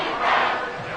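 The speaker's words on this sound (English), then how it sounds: "This crowd turning up the decibel level." NFL football stadium crowd during a Browns versus Seahawks game roaring loudly on third down, a broad sustained swell of cheering that peaks and eases slightly, with no clear talk over it.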